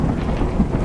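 Heavy rain hisses in a dense, steady wash with a low thunderous rumble beneath, a brief loud burst of storm with no speech.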